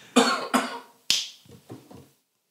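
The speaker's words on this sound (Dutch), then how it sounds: "ik knip en dan doe jij de hoest" A single sharp finger snap, then after a short pause a cough: an abrupt burst followed by a couple of fainter throat sounds, close and alone with no talk.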